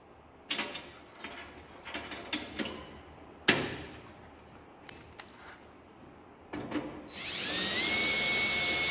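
A counterbore tool cuts a countersink hole in a Jeep JL dash accessory rail, heard as several short bursts of drilling and clattering contact, then a steady, louder whine of the tool running to the end.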